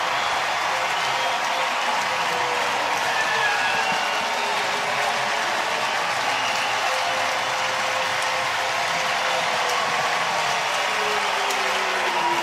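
A Yankee Stadium crowd roars steadily after Benintendi's two-run home run, a dense, continuous wash of cheering that holds at a constant level throughout.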